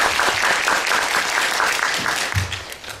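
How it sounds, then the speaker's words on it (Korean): Audience applause at a university lecture hall, steady dense clapping from a crowd sustained throughout, fairly loud and close with no talk over it. "큰 박수 부탁드립니다."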